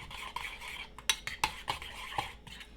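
A utensil stirs and mixes crab cake ingredients in a bowl, producing soft rhythmic scraping and several sharp clinks against the bowl, quiet and close up, with no speech.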